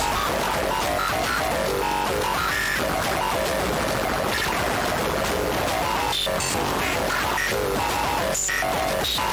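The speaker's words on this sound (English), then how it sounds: "this is the sound of the sequential switch matrix modulating the braid" Dense, harsh modular synthesizer noise from a sequential switch matrix modulating a Braids module, with shifting metallic textures and stuttering bursts, loud and continuous throughout with no pauses.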